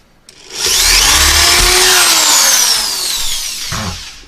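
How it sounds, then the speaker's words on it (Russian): A power drill bores a hole in a wooden case for an Altai jaw harp, a loud, close whine that rises as it bites in, holds for a few seconds, then winds down. "Просверливаем отверстие."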